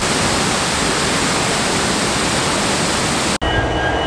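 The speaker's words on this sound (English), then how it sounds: "I found a waterfall" Steady broadband roar of a waterfall, loud and continuous, cutting off abruptly near the end with a brief dip before the rush resumes more thinly.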